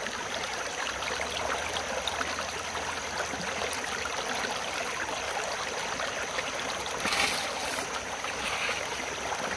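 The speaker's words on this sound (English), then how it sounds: "I almost have too much water flow." Water rushing steadily through a gold sluice, a constant broadband hiss with a brief louder splash partway through and no talking.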